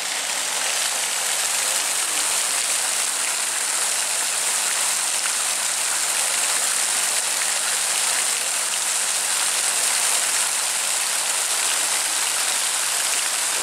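A fountain beside river steps at a bridge in Polanica-Zdrój, on a cloudy, drizzly day, splashes in a constant broad hiss of falling water, even and uninterrupted throughout.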